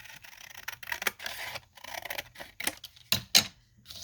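Scissors trim the edge of a paper pocket in a run of short, crisp snips and rustles, close and fairly quiet, with the louder cuts coming near the end.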